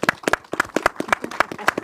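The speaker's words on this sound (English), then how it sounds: "could we give them a round of applause?" An audience at an Ocean School literacy event claps in a round of applause, a brief burst of steady, overlapping hand claps in a room.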